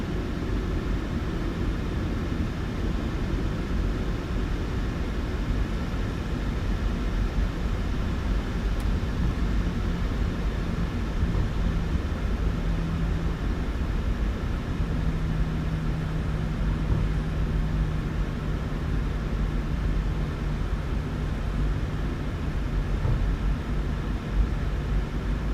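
A PMDG 737-800 airliner taxiing in Microsoft Flight Simulator 2020, a constant low engine rumble with broadband roar, steady and unbroken, with a faint tonal hum in the middle.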